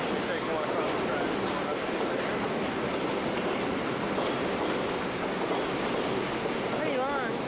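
A long train rolling across the tracks at an outdoor stop in Bensonhurst, a steady loud rumble with continuous wheel noise that holds for the whole stretch, with faint voices underneath.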